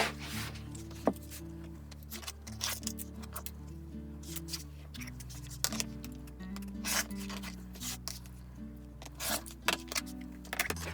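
Fabric for an Amish Star quilt block being cut along a drawn line, heard as soft rasping, scissor-like cutting strokes and small clicks under a steady music bed.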